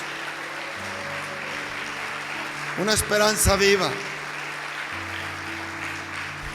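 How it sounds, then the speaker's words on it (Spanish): A short burst of clapping from a church congregation swells for about a second between stretches of music and a voice talking. "dale fuerte las palmas a Dios"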